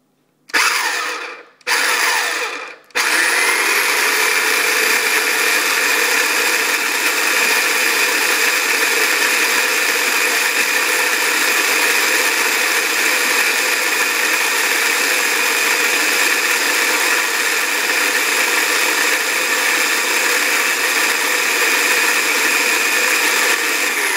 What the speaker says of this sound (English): my food processor here